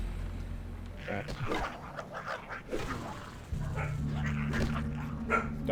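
A dog indoors gives a few short barks and whimpering yips, mixed with a person talking and a low steady hum.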